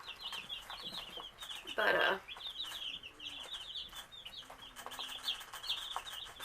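Cornish Cross chicks peep continuously and brightly while drinking in a brooder, a steady chorus of small high chirps with a brief louder burst partway through and a voice speaking briefly.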